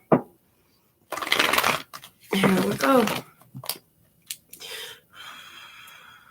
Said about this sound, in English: I'm being guided to shuffle more the reversals in.